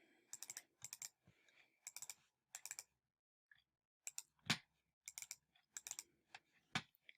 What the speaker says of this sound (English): every time I double click, it's going to make it go up a little bit more